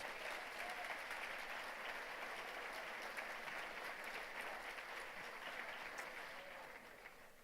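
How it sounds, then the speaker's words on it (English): A breakfast event audience applauds a singer after her performance, a sustained, even roar of many hands clapping that holds steady for several seconds and then tapers off slightly at the end. "Let's give her a round of applause."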